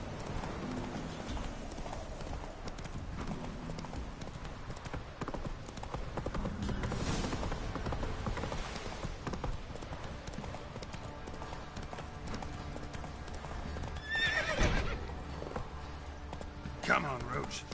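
Roach the horse galloping in The Witcher 3, a rapid drumming of hooves with a whinny partway through, heard under game music while someone talks over it.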